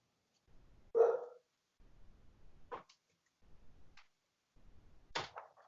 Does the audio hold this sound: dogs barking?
yes